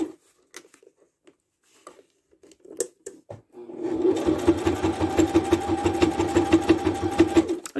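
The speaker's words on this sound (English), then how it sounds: "I'm just going to go ahead and stitch on down." Sewing machine running a steady stitch through vinyl for a zippered candy bag, a fast even mechanical patter that starts after a few quiet handling taps and continues loud and close with no talking.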